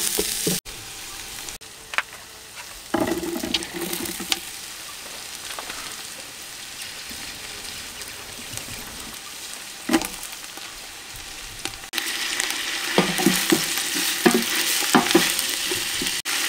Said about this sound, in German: Zwiebeln nicht anbraten, sondern glasig schön anschwitzen halt